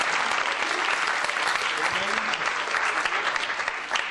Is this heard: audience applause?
yes